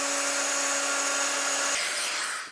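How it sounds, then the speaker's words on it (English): A power drill bores into wood for screws while a wooden tray is assembled in a workshop. A loud, steady whine runs close up, then the tone drops away into a brief spinning-down hiss. "then I'm going to drill, then put my screws in"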